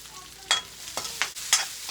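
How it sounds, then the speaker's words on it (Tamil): Finely chopped onion and curry leaves fry in oil in a pan, with a steady sizzle broken by several sharp scrapes as a spoon stirs them. "வெங்காயம் கொஞ்சம் எண்ணெயிலேயே நல்லா வணங்கட்டுங்க."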